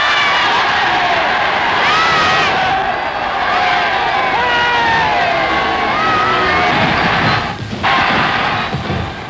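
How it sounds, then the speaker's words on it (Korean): Berlin citizens in archival footage from 1939, as Germany moves against Czechoslovakia, cheer loudly as a dense crowd, with sustained shouting and whoops that dip briefly near the end. "히틀러가 체코를 공격하자 베를린 시민들이 환호성을 질렀다"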